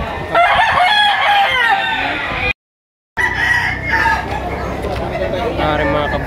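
Roosters and chickens at a poultry auction market in Lipa City, crowing and clucking loudly under steady chatter from a crowd, with a brief dropout midway before the birds and voices resume.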